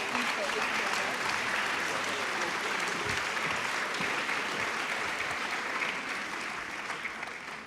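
An audience applauds at a literary discussion at Festival America 2018, a dense, continuous patter of clapping from a sizable crowd that holds steady and tapers slightly at the end.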